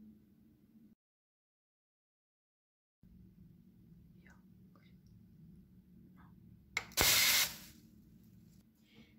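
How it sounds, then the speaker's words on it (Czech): Compressed-air oil spray can releasing a short, loud hissing burst of lubricant spray, following quieter background noise with faint clicks. "Lze aplikovat ze všech úhlů a díky rozprašovači umožňuje rovnoměrný a kontrolovaný postřik."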